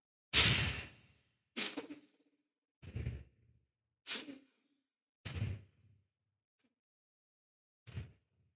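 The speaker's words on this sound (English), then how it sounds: "let's begin with 30 rounds of bow breathing" Bow breathing through the nostrils during pranayama practice, six forceful, rhythmic breaths, close and clear, evenly spaced with silence between them.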